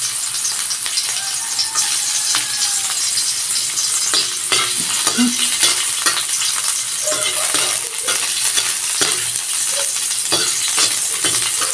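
Garlic frying in a small amount of oil gives a steady, close crackle and sizzle with scattered pops and faint stirring clicks throughout, no talking.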